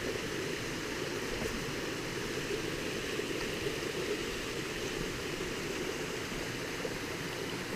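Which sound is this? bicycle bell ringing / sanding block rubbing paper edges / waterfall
waterfall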